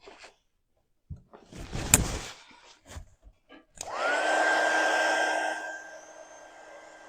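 A hair dryer blows on a wooden cutting board decor piece, starting abruptly after some handling clatter and running as a loud steady whir with a whine, then easing slightly toward the end.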